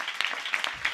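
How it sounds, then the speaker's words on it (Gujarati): A crowd claps at a church Christmas celebration, a short burst of dense applause heard close and fairly loud, lasting about a second. "જોરદાર તાળી પાડીએ."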